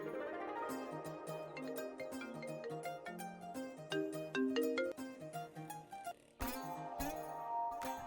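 A phone rings with a melodic electronic ringtone: a bright tune of quick repeated notes and chimes, briefly breaking off before the melody resumes, with no voices.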